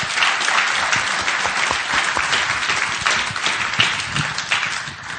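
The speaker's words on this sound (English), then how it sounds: "give our panel here, who did a wonderful job, a round of applause" A conference audience at a business tourism event applauds its panel, many hands clapping in a loud, sustained, even roar that holds steady throughout, with no voices on top.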